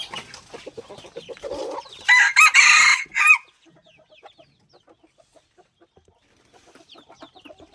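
Faint clucking opens, then a red-eared F2 breeding rooster crows loudly and nearby in a strong burst before the yard settles into sparse, soft chicken clucks and quiet pauses.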